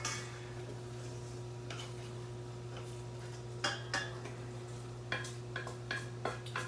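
Browned meat and vegetables for pasties being moved from a big pan into a large bowl, with a few sharp utensil scrapes and clinks against cookware over a low steady hum, fairly quiet and close.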